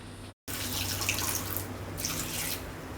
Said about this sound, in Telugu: కొంచెం నీళ్లు పోసి